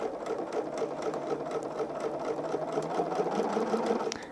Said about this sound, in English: I just overlapped my stitching by about 1 inch, so I didn't have to do any reversing